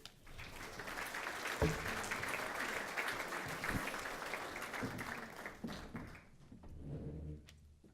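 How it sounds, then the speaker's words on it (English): A conference audience applauds the opening speakers in a steady round of clapping that holds for several seconds before tapering off, with a voice starting up as it fades. "Please, a round of applause for our first two, our opening speakers."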